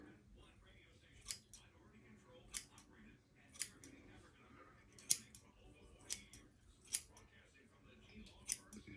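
Scissors snip curly hair steadily at close range, about one crisp cut per second, with quiet background noise and soft murmuring between the snips.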